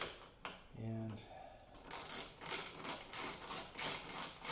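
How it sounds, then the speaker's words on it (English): A 10 mm socket on a ratchet works loose grill bolts on a 2017 Ram 2500, giving quick repeated clicking bursts up close after a brief metallic clink and a low hum. "this is one of those fancy ratchets that kind of gimmicky, but in this case it's kind of handy"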